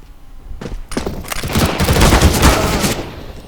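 Rapid bursts of gunfire striking a steel fence in the game CS:GO, loud and close, with dense overlapping shots building through the middle and easing off near the end.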